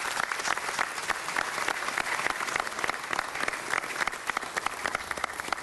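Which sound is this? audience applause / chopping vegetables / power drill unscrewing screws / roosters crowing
audience applause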